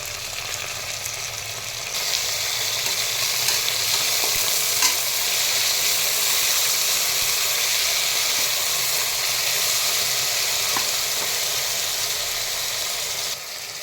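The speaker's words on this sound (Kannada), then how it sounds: "ಈಗ ಅದಕ್ಕೆ ಟೊಮೊಟೊನ ಆ್ಯಡ್ ಮಾಡ್ತಾಯಿದ್ದೀನಿ." Tomatoes and vegetables fry and sizzle in a pan for vegetable pulao, with a continuous loud hiss and occasional scrapes of stirring, no voices.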